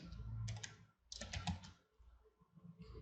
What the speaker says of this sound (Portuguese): Então eu vou digitar reverse.